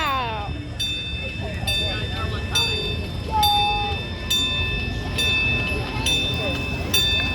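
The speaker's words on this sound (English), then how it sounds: "looks like we see that train passing through" Union Pacific freight train rolling past a railroad park, with a loud, steady rumble and regular rhythmic clacks of wheels over rail joints, plus squealing metallic tones, close by; a voice speaks over it.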